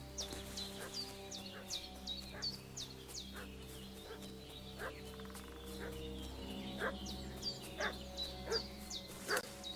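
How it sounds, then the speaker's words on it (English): Repeated barking from a dog in Kingdom Come: Deliverance 2, sounding at a medium distance in a rural game setting, mixed with chirping birds and a steady low ambient hum. "What's that dog making such a fuss about?"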